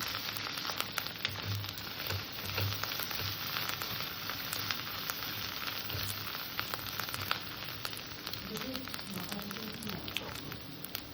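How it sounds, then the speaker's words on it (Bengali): Ginger garlic paste with ground cumin and coriander sautéing in a pan, giving a steady, dense sizzle that runs unbroken and fairly close throughout, with no talking over it. "এটাকেও হালকা একটু কষে নেবো যাতে আদা রসুনের কাঁচা গন্ধটা না থাকে"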